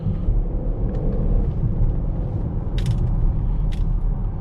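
The engine of a 2015 Jeep Grand Cherokee Overland drones steadily from inside the cabin while driving, a deep rumble with light mechanical creaks and rattles.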